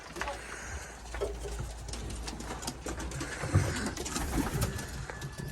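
Pigeons coo softly in a loft amid a steady rustling, murmuring background, with low, repeated throaty calls overlapping throughout.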